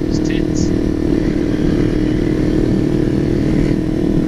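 A small motorcycle's engine hums in a steady, moderately loud drone. Voices are heard faintly in the background.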